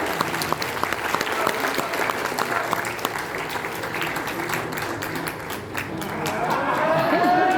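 Steady, dense audience applause at a product launch event, sustained for the whole stretch with crowd noise underneath.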